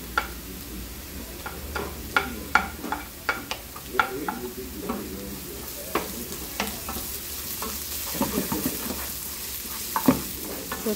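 Onion, garlic and ginger frying in a pan with a continuous soft sizzle and repeated sharp clicks of a spoon stirring against the pan, close, no talk.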